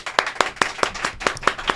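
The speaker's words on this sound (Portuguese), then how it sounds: "Uma salva de palmas" A small production crew on a podcast set claps for a guest, eight or nine distinct, evenly spaced claps in a steady rhythm, close and clear with no one talking.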